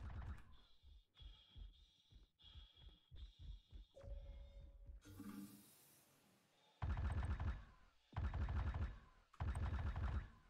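Gunfire in the Star Marine mode of the space game Star Citizen. Rhythmic shots crack in quick succession, then a pause, then several loud, dense bursts of automatic fire near the end.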